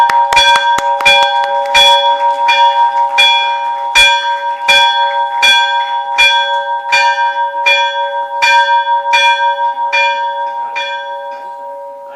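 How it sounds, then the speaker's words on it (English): A bell clangs about fifteen times in an even rhythm at a stock exchange listing ceremony, each ring loud and clear, with lingering overtones and no talk. "Let the bell keep ringing."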